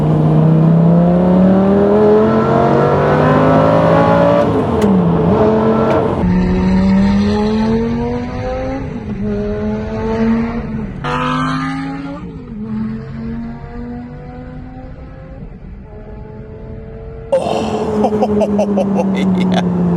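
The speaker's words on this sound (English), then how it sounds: "let's allow that 5-litre V10 to speak for itself" A powerful high-revving 5-litre V10 engine in a straight-piped manual Lamborghini Gallardo screams up through the gears, pitch climbing then dropping at each shift, loud and close from inside the car.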